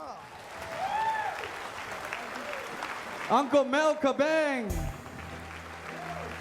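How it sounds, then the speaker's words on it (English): Audience applause at a Hawaiian comedy tribute show, a low wash of clapping running beneath a loud announcer who keeps talking over it throughout. "give them all a big round of applause"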